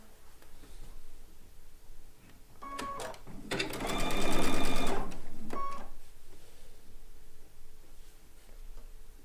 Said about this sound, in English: Then we have to sew these 3 pieces together.